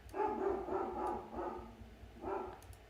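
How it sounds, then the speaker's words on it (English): A household dog barks in bursts in the background of a home room, moderately loud, several barks in a loose rhythm across the span with no talking. "I don't know if you guys can hear my dad's dog barking in the background."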